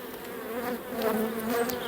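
Honeybees in an opened hive during late-autumn wintering preparation, a dense, continuous buzzing swarm close by, agitated and steady, with individual bees droning past.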